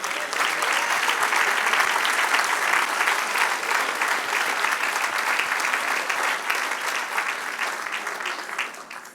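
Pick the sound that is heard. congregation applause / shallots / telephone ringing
congregation applause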